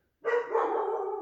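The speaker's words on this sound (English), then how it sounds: "My brother's dog was barking." A single dog gives one loud, close bark that starts abruptly after a moment of silence and trails off over about a second.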